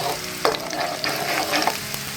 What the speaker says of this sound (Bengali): রসুন ভাজতে কিন্তু বেশি সময় লাগে না